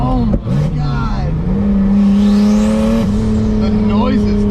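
A turbocharged BMW E30 with an M20B25 engine revving hard, a loud, close droning engine note that climbs and falls through gear changes, with short crackles and a brief voice near the start.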